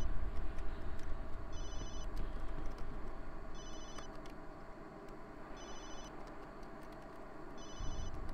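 A cell phone rings in the survival horror video game Obscure: four evenly spaced bursts of a high electronic trill over a low ambient drone.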